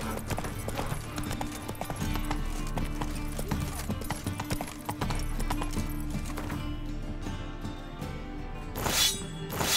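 Roach, a horse in The Witcher 3, gallops with steady rapid hoofbeat clip-clop throughout, up close and loud, with a brief whinny-like burst near the end.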